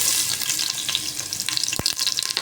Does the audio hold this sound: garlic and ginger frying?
yes